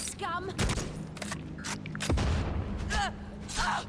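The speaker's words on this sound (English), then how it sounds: "Oh no, she's got a grenade launcher." Repeated booming shots and explosions of a grenade launcher in a firefight in Necromunda Hired Gun, dense and loud with gunfire and whooshing effects layered throughout, a voice talking over part of it.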